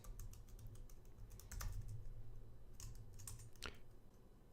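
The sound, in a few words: typing a password on a computer keyboard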